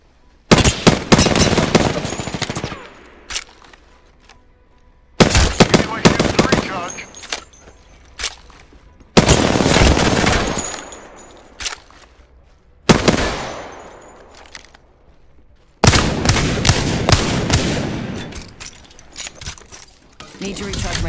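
Bursts of rapid gunfire from the battle royale video game Apex Legends, loud and close, coming in several separate volleys with short quiet gaps between them.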